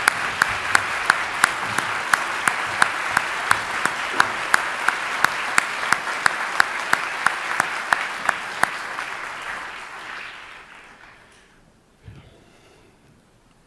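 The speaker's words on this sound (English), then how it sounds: "Let's give them a gigantic round of applause." Audience at a solidarity-with-Israel gathering giving a big round of applause, dense clapping with a steady rhythmic clap beat running through it, fading out after about ten seconds into near quiet.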